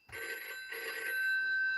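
A telephone rings in two short electronic bursts, faint and somewhat distant, with a thin steady tone lingering after the second ring.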